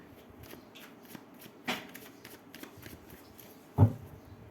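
Tarot cards are shuffled by hand in a quiet room, a soft riffling flutter with a few slaps of the deck and one louder knock near the end.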